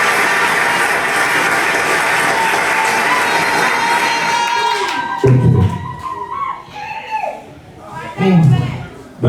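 Wedding guests at an evening dance party cheer and shout for the bride, a dense crowd roar with whistles that fades into scattered whoops and bursts of voices.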